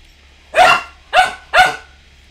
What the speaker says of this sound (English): the dog barking scared the hell out of me